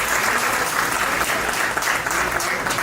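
Reunion audience at a school gathering in Chicago applauding a guest, a thick sustained burst of clapping from a large crowd, loud and even from start to finish.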